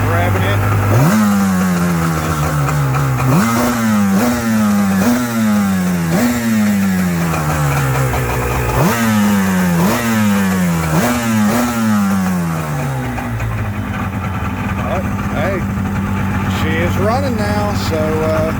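A Yamaha WaveRunner GP760 personal watercraft engine, after a top end rebuild, revs repeatedly, its pitch climbing and dropping in a steady cycle of throttle bursts, then settles into a rougher idle. Loud and close.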